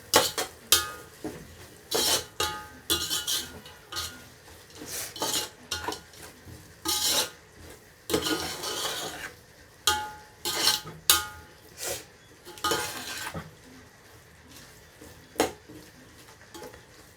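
A spoon stirs ginger paste with chili powder and turmeric in a pan for egg biryani, scraping and clinking against the metal in irregular bursts, close and clear with faint sizzling beneath and no voices.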